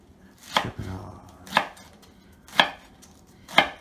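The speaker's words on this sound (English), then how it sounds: "And then cut them into strips like confetti." A knife cuts rolled collard greens into strips on a board, four sharp, evenly spaced chops about a second apart, close and clear with no talk.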